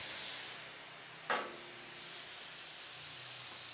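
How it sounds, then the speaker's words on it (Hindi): Steam releases from a pressure cooker after a beef karahi has cooked, giving a loud, steady hiss that runs throughout, with one brief sharper spurt in the middle. "स्टीम रिमूव कर दें।"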